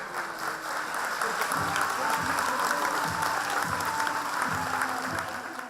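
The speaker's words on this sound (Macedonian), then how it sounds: "Громогласен аплаус од преполната сала публика одекнуваше вчера вечер во Народниот театар" Sustained thunderous applause rolls through a packed national theatre hall after a performance, a dense, even roar of clapping from a large audience lasting the full stretch, with some low voices murmuring beneath it.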